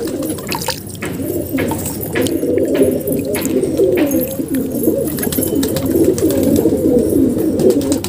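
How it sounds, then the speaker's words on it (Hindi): Shirazi pigeons cooing together in a steady, overlapping low murmur of soft coos, close and continuous, with no talk over them. "शिराजी कबूतर देखिए किस तरीके से आया"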